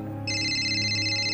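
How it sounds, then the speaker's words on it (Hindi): A phone ringtone for an incoming call starts abruptly and plays a steady, bright electronic tone alone over a low background hum. "तैयब की कॉल आ रही"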